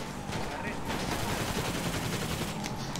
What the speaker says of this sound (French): Oh, sur ma mère, ils me tirent tous dessus.